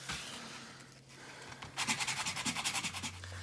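Sandpaper rubs across a wooden cutting board, first in a steady scratch, then in a quick rhythmic back-and-forth of short strokes, close by and fairly quiet.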